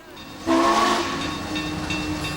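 Train pulling out of a station, a 1944-era departure, with a sudden loud tonal whistle-like blast settling into a sustained rumbling rail sound, fairly steady and unaccompanied by talk.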